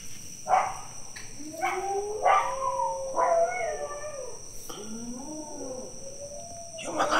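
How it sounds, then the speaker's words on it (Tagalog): Several dogs howl and yowl at night near a hut, in long, wavering, overlapping cries with occasional sharp barks, moderately distant over a constant insect-like whine. "Kaso lumungol yung mga aso."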